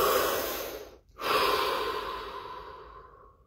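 A person takes a deep, slow breath during a guided relaxation, with a long airy exhale, a short pause, then another long breath that gradually fades, close and alone.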